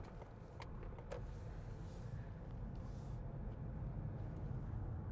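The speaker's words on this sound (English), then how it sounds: "That truck's going too fast." A truck or SUV drives past on a road, a faint, steady rush of tyre and engine noise heard from a distance that swells slightly toward the end.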